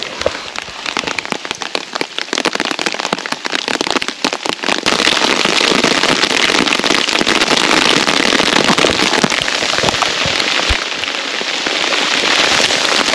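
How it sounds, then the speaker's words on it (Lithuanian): Hail pelting down outdoors, a loud, dense clatter of hard impacts that thickens into a continuous roar about a third of the way in and stays heavy, no speech. "Kruša."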